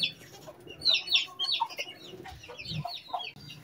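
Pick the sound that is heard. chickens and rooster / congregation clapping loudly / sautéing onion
chickens and rooster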